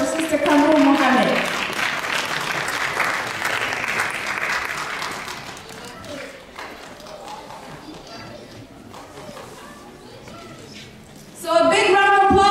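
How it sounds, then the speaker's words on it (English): Round of applause for an award recipient at a Vancouver Muslim Food Bank fundraising event, scattered clapping from a modest crowd that swells and then thins out, with music cutting in at the end. "So a big round of applause"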